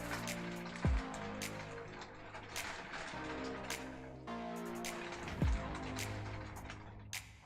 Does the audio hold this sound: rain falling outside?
yes